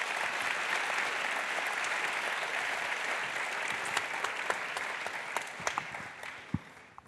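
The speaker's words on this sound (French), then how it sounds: "On peut l'accueillir sous vos applaudissements" Sustained audience applause at a French conference panel on artificial intelligence, dense and steady throughout, with a few sharper individual claps standing out near the end and no talk over it.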